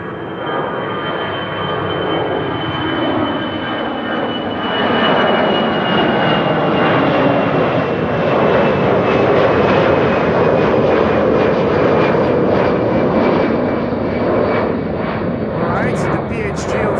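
Aircraft engines roar steadily at Amsterdam Schiphol Airport, a loud, continuous jet rumble with a high whine that swells slightly in the middle, and a voice talks over it near a runway threshold.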